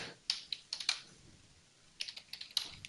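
Close, quiet clatter of a computer keyboard as a command is typed on a Raspberry Pi setup, two quick bursts of keystrokes separated by a short pause.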